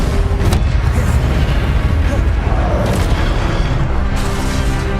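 Continuous loud, dense rumbling booms and bursts of magical spell effects from Hogwarts Legacy combat, with a few sharper cracks layered over a heavy low roar throughout.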